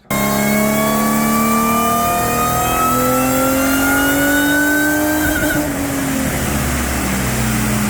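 A Holden VY Calais engine on a dyno run, a loud steady climbing rev that rises for about five seconds, then cuts off and drops into a lower roar.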